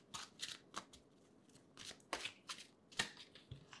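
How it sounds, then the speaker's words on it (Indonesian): Tarot cards are shuffled and drawn, giving quiet, close riffling and snapping bursts in an uneven rhythm. "Coba gue tarik satu kartu lagi deh."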